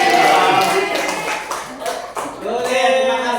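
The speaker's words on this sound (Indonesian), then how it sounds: "Tolong kasih tepuk tangannya dong." Applause from a classroom audience after a microteaching practice lesson, a sustained burst of hand clapping that stays loud and then thins out toward the end, with a voice speaking briefly partway through.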